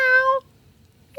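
A person imitates a cat's meow with their voice, a drawn-out mewing call, then a short pause of quiet before a second meow begins at the end.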